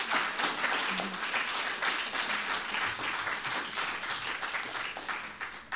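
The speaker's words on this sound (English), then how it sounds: "Let's give them a round of applause for that." Sustained audience applause after a Q&A session, a dense, even wash of clapping from a sizeable crowd that holds steady throughout without pause.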